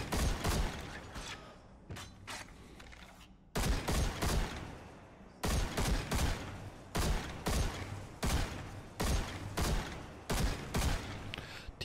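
Rapid bursts of automatic weapon fire from the Verderben von Chelchis in the shooter game Destiny 2, loud repeated volleys broken by short pauses, with mechanical clatter between strings of shots.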